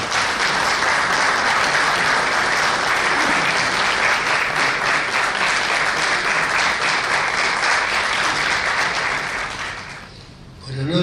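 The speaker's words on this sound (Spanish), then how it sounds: "Vamos a recibir con un fuerte aplauso al protagonista de esta noche" An audience applauds an author arriving to present his book about the death of Lavalle, with strong sustained clapping for about ten seconds that fades near the end.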